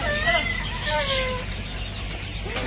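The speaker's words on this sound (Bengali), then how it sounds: "এই যে মুরগি তো সেই লেভেলের মারামারি কইরা খাওয়া দাওয়া করতেছে" Farm chickens squabble as they feed in a village poultry shed, a dense flock of clucks and short squawks heard close over a constant low background, with no one speaking.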